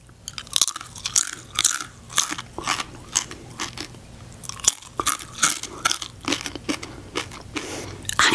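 Tortilla chips are crunched and chewed close up, with repeated sharp bites and crackly mastication in an irregular rhythm, loud and without talking.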